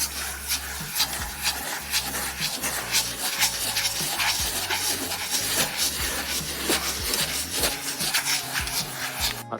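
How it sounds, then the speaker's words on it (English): Steady rubbing and scraping of a brush or sponge scrubbing a wet fibreglass caravan, continuous and close with repeated strokes, fairly loud and without talk. "And now I just give it another good scrub."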